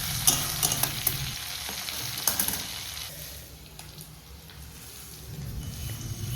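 Chopped green chili, ginger and black mustard seeds sizzling in hot oil in a kadai, with a loud steady crackle and clinks of a spoon near the start, easing off slightly toward the end.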